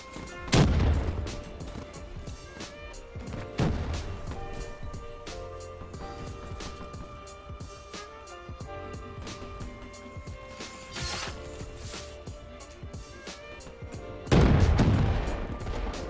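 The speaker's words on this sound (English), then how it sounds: "That dude's using the PO6, I think. I can hear him shooting it." Gunfire from the PO6 weapon in the shooter Black Ops 3, a few sharp loud shots with pauses between them, set against a busy layer of game music and effects.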